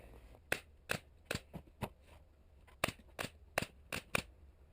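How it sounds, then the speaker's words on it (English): A stapler drives staples through seat cover material on a 2002 Honda Rancher 350 ATV seat, giving about a dozen sharp, crisp snaps in an uneven rhythm against a quiet background. "So even as I do my stapling, I let this gouge in, the stapler gouge in, and push the material tight."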